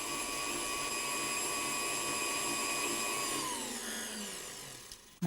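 A steady, loud electric mixer whirs as it beats flour, soft margarine, caster sugar and baking powder into a batter, holding one even tone before winding down and stopping near the end.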